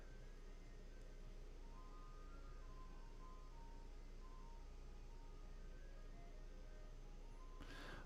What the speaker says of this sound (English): here comes this stupid ice cream truck